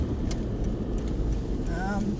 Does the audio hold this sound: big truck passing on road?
yes